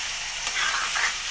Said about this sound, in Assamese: মাজে মাজে খুলি এনেকৈ লৰাই